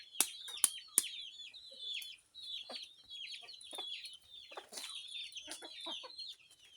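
Chicks cluck and peep while eating winged flying termites from a broken-open termite nest, with a steady run of small, close calls and a few sharper chirps at the start.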